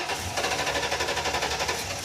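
Engine of a Ford Ranchero pickup starting and running at idle, a steady close, loud mechanical drone with a rapid pulsing rhythm throughout, no talk over it.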